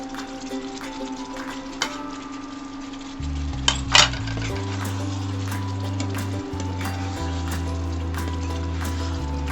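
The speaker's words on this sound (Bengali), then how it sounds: "পনিরের পিসগুলো এবার দিয়ে দেব।" Paneer pieces go into a pan over a constant loud sizzle and hum, with a few sharp metallic clinks and a clatter midway as the pieces land, and no voices.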